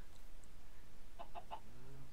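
A Minecraft chicken gives three quick, faint clucks in a row, set against a quiet game ambience with no talking.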